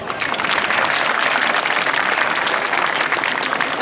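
Steady, dense applause from an outdoor audience at a medieval festival show in Locronan, sustained and fairly loud throughout with no talk over it.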